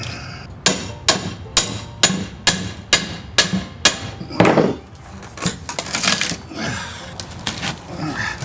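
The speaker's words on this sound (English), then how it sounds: "had to rip the floor up by force" Old wooden engawa floorboards being pried and ripped up by force: a steady series of about eight heavy knocks and cracking blows, then a longer creak and tearing of wood with scattered thumps and clatter.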